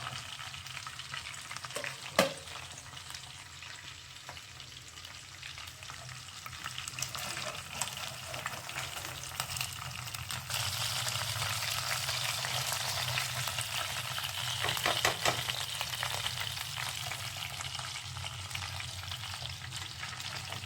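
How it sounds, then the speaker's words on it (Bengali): Yogurt-marinated katla fish fries in a pan with a steady crackling sizzle, sharp clinks of a utensil stirring and lifting pieces now and then, no voices. "তো আমাদের মাছ ভাজা হয়ে গেছে"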